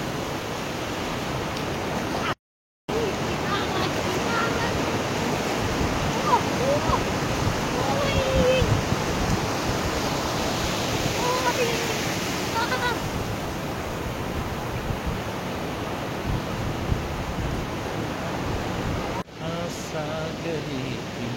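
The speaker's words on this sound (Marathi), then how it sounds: "लाट आले, लाट आले" Sea waves break on a Konkan beach at Diveagar in a continuous broad roar of surf that swells and recedes, steady and fairly loud, with faint voices mixed in.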